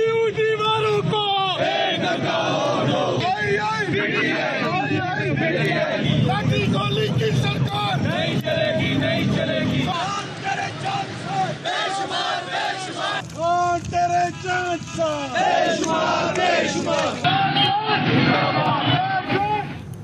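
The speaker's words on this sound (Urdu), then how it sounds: "حکومت کے خلاف نعرے لگائے" Pakistan Tehreek-e-Insaf supporters chant slogans against the government outside the Governor House, a loud crowd shouting in rhythmic waves throughout with dense overlapping voices.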